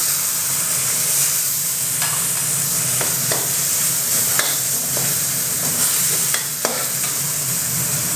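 Continuous sizzling of minced pork frying in a hot pan with a little water, with occasional scraping and stirring clicks from a utensil, close and steady throughout.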